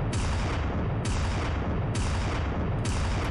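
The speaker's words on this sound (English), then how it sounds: "Let's go shoot up a brothel" Repeated heavy gunshots in the Red Dead video game during a shootout at a brothel. The loud booming blasts come in a steady rhythm, about four in three seconds, and no voices are heard.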